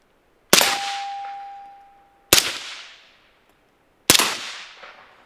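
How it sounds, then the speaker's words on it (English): Three loud pistol shots from a KelTec P50 at an outdoor range, each a sharp crack spaced about two seconds apart with a ringing tail fading out between them, no talking. "So now let's shoot this guy a little bit."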